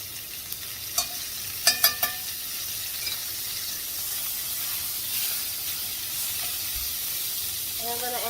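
Butter sizzles in a hot cast iron pan, a steady hiss throughout, with a few sharp clicks early on.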